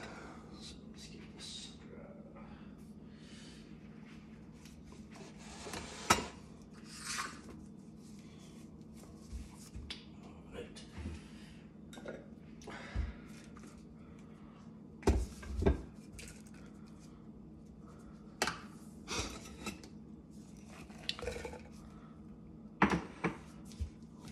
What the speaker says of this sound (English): I think I'm going to use the mortar and pestle.